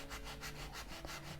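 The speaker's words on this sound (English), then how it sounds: "I'm just going to start by sanding the picture off around her." A sanding block rubs back and forth over a printed photo, giving a soft, quiet, rhythmic scraping with about five even strokes.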